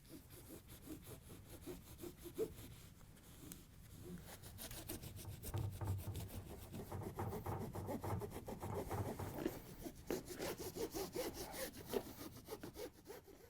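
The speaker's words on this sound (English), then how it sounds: "we want to go around the whole edge and remove all this residue" Old foam tape residue is scraped off the edge of a GE cooktop's glass, a steady, quiet rasping of quick repeated strokes that goes on for the whole stretch, close and soft with no talk.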